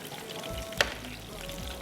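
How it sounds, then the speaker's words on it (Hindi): Tadka tempering sizzling in a pan while pulao is cooked, a soft continuous frying hiss with a brief sharp crackle partway through, fairly quiet and heard without speech. "मैं तड़का लगाती हूँ"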